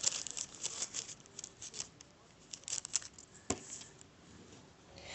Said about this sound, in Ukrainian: Беремо великий скотч і заклеюємо оцю штуку.